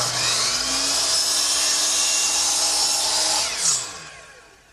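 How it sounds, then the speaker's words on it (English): A power saw cuts a 45-degree chamfer along a sharp wooden workbench edge on a miter box, a steady loud whine running for about four seconds before tailing off as the blade winds down. "I want to knock off this sharp edge by chamfering it so I won't stub my toe as I walk around the bench. And I'll do that right here on the miter box"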